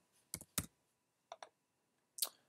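A few sparse keystrokes on a computer keyboard, close and quiet: a pair of clicks, then another pair, then a final one, separated by short pauses.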